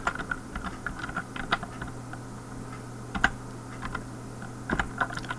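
C code being typed on a computer keyboard as a steady run of close key clicks, with a few louder taps standing out over a constant low electrical hum.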